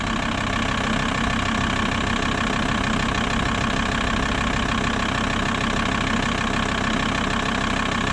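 A 2.5 TDI diesel engine in a VW Transporter T4 idles steadily just after starting on new injectors, a continuous close, loud rumble with a faint knocking edge and no voices.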